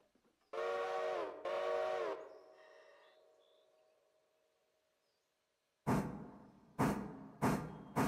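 A steam locomotive in the Railroader train simulation game gives two long whistle blasts, then after a quiet pause puffs out four loud, evenly spaced chuffs close by.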